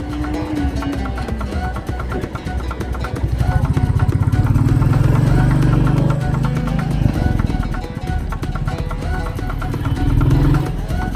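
Royal Enfield Classic 350 single-cylinder motorcycle engine running steadily while riding in low gear, a loud continuous drone that rises in pitch around the middle and stays prominent throughout.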